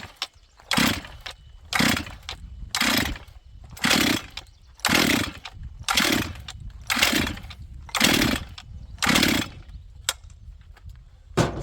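A chainsaw bought at auction, started on choke, fires in about ten rhythmic bursts, each pull catching briefly before dying, loud and close with short quiet gaps between.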